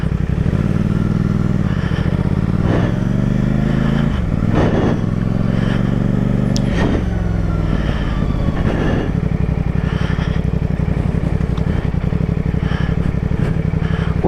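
A CF Moto 450 SR-S parallel-twin motorcycle on a test ride, its engine droning steadily and loud with gear changes and revs rising and falling, and constant wind and road rush throughout.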